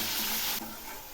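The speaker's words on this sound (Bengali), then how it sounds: "এই পেঁয়াজ রসুন বাটাটা হালকা করে ভেজে নেব।" Ground onion and garlic paste frying in oil while being stirred, a close, fairly soft crackling sizzle that briefly flares and then settles, with no talking.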